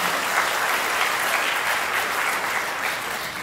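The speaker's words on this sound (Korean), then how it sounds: "여러분께 박수 부탁드립니다." Wedding guests at a grand ballroom ceremony in a convention hall applaud together in a steady, dense wash of clapping that holds evenly for the whole stretch, with no voices over it.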